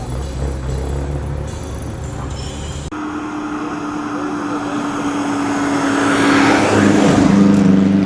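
An engine on a classic rally car at the Oulton Park circuit runs loudly and continuously, its roar swelling and climbing in pitch as the car revs harder toward the end.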